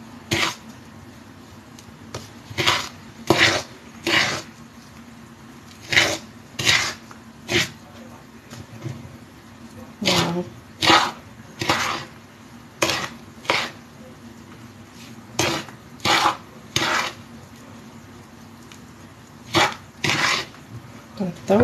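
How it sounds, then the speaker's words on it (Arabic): Ingredients mixed by hand in a bowl, a utensil scraping and clinking against the sides in quick repeated bursts with short pauses between, close and fairly loud, with no talking. "نحاول نخلطو"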